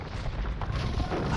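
A bombard cannon fires in an Age of Empires match, giving dense, rumbling booms and impact noise that fill the short moment loudly and steadily, blended with game sound.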